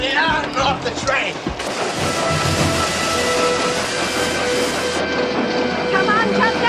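A train rolling on rails, a steady loud rumble and hiss of wagons in motion after a burst of shouting voices, with more brief calls at the end.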